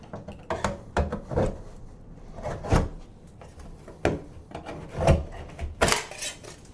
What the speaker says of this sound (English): I'll just use my screwdriver and kind of pry around the edge, and I'll pop this piece out.